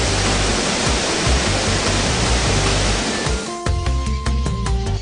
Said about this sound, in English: Asop Falls is the natural waterfalls occurring at the bottom of the famous Hawan Kibo